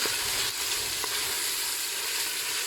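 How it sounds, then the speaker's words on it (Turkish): Coarsely chopped onions sizzle steadily in a hot pan, a constant crackling hiss close up, with a faint scrape of stirring now and then. "Soğanlarım da şöyle bir pembeleşsin, kavrulsun."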